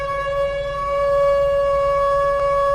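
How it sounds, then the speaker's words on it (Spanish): A factory siren whistle sounds one sustained, steady tone calling workers, loud and unbroken, swelling slightly as it holds. "había un sonido que determinaba con la exactitud de un reloj suizo qué hora era: la del pito de la fábrica"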